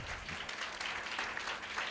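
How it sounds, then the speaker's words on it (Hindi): Audience applause at an entrance exam event, a steady burst of many hands clapping, fairly faint and distant, continuous for a couple of seconds without talk. "हाँ बिल्कुल बजा सकते हैं आप लोग ताली"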